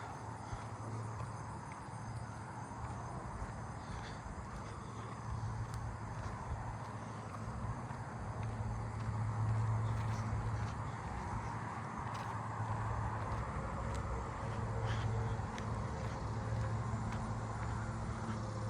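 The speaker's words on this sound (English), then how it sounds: "Oh, I hear another swamp cicada in the distance." A swamp cicada calls in the distance as a steady, droning buzz over a continuous insect chorus and faint low road rumble in a suburban neighbourhood, with no talking.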